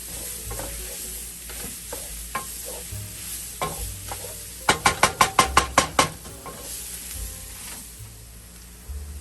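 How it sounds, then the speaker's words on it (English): Crawfish meat sizzles in a hot pan while it is stirred and scraped, with a quick burst of sharp knocks on the pan partway through. "so I am going to add in my crawfish like so"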